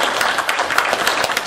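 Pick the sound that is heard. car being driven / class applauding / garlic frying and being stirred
class applauding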